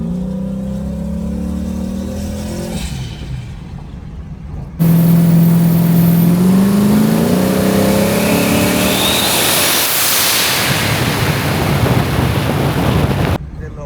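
A turbocharged Chevrolet Camaro with a cold air intake drones, then surges loudly as the driver accelerates hard at night, with rushing wind and road roar swelling around it close to the microphone.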